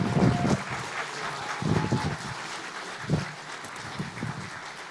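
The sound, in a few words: audience applause welcoming a speaker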